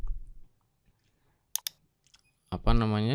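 A computer keyboard's Tab key is pressed in Microsoft Word, giving two quick, close clicks in a quiet room before a voice starts talking.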